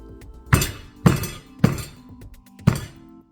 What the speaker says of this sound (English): when you use something dense to actually bash this up a bit, so put my mortar and pestle here